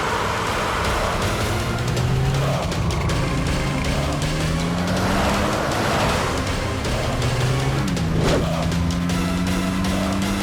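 A car pulls away fast, its engine revving and climbing in pitch as it accelerates, loud and continuous and close by, with no voices.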